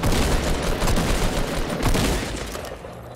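Rapid gunfire in a shooter video game, dense overlapping shots rattling loudly for a few seconds before tapering off slightly at the end, with no talking.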